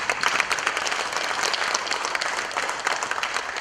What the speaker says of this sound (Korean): 다시 한번 축하의 박수 한번 드려볼까요?